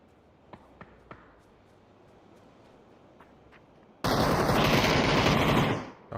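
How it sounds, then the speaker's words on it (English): Gunfire in a PUBG esports match: three sharp, faint shots, then a long, loud burst of heavy fire that cuts off abruptly before a final shot. "I can hear a mortar going off."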